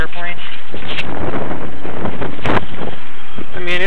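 Strong gusts buffet the microphone at an RC airplane flying field on a very windy day, a loud, rough roar with bursts of brief noise throughout.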